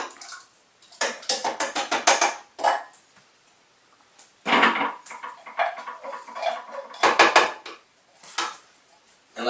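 Canned vegetables and their liquid dumped into a pan, a run of wet clattering splashes and metallic scrapes coming in several separate bursts, with quiet gaps between them.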